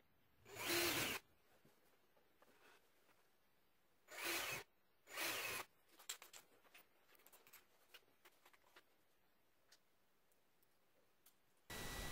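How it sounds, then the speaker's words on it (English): A power drill bores holes for window blind brackets in a home, sounding in several short, loud bursts separated by quiet pauses with faint clicks and taps between them. "Drill your holes."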